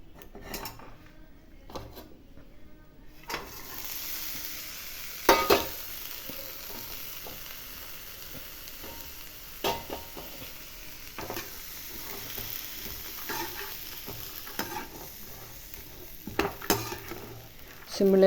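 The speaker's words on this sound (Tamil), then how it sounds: "நல்லெண்ணெய் விட்டு பிரண்டையை போடுவோம்" Pirandai (veld grape) sautéing in sesame oil, a soft steady sizzle with intermittent stirring scrapes and utensil clinks against the pan.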